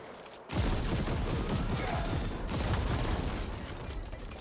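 Sustained barrage of gunfire from the cyberpunk action RPG The Ascent, erupting after a half-second lull into dense, continuous loud shooting with rattling mechanical bursts that holds steady for several seconds.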